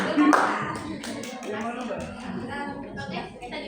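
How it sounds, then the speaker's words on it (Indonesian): Students in a Kudus high school class X-2 group guidance session clap together, a short burst of hand claps mixed with voices in the room. "Oke, tepuk tangannya dulu."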